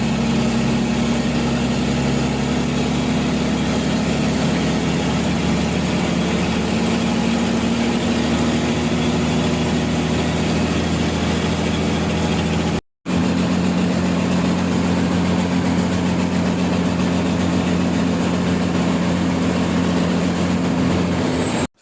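The engine of an old government bus on a long route in Port Blair drones steadily inside the cabin, a loud continuous low hum with a constant rumbling tone, broken once by a brief cut.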